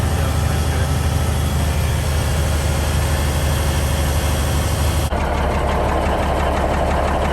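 A 1971 Peterbilt 352 truck engine, running for the first time in 30 years while it builds air pressure, idles close and loud with a heavy, even knocking rumble that holds steady throughout.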